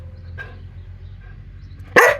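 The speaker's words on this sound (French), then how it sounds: "il aboie beaucoup votre chien" A dog gives a single sharp, loud bark close by at a campsite, after a quieter stretch with a faint yip in the background.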